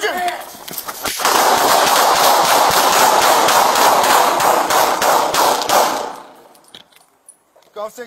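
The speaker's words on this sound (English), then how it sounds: "Six shots fired." A dense, loud burst of rapid gunfire erupts during a police traffic stop, shots blending into a continuous roar for several seconds before cutting off, with faint shouting around it.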